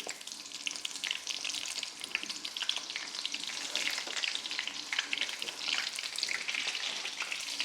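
Chili bajji, batter-coated green chilies, deep-frying in hot oil: a dense, steady sizzle and crackle of bubbling oil runs close and loud throughout, with no voices.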